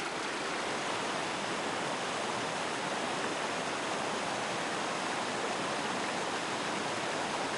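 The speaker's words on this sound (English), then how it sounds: "This is a young river with rushing waterfalls" A young river with rushing waterfalls in a forest of conifers and deciduous trees gives off a dense, constant roar of broadband water noise, loud and unbroken throughout.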